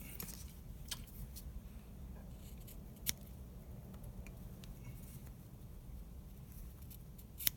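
Scissors trim a piece of material with a few faint, sparse snips over a soft steady background, including one sharper cut midway and another at the end.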